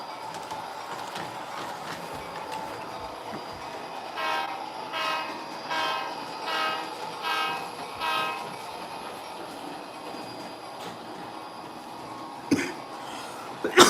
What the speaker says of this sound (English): Got both the trains in full swing on the bottom deck this time.